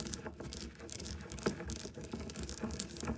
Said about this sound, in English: And you just grind them, and you can hear them snapping there.